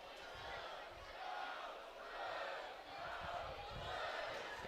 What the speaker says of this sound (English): Crowd, student section chanting a Go Blue chant as the goal kick goes up.